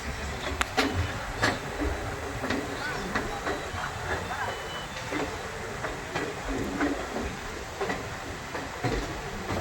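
A train runs on the hilly Silchar to New Haflong railway line, a steady rolling rumble with sharp periodic clacks and clicks from the wheels, close and continuous, with faint voices mixed in.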